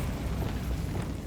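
A Bombarda blasting spell in Hogwarts Legacy erupts as one continuous loud, rumbling blast, close and dense, filling a short moment with no talking.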